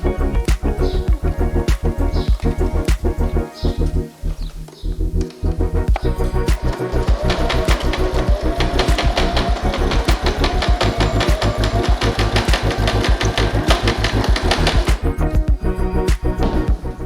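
A sewing machine stitches fabric for handmade espadrilles, running in a loud, fast, steady mechanical rhythm with a short pause near the start before continuing nonstop up close.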